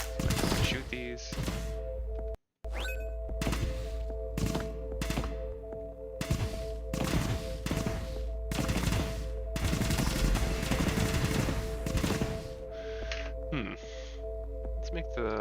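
Rapid bursts of weapon fire from a video game under test, repeated shots in clusters over a steady hum with occasional short pauses, fairly loud and close.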